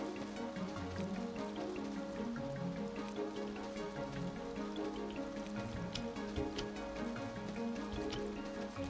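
Rain falls in the Staxel video game, a soft continuous patter under a quiet layer of game music, faint and steady throughout with no voices.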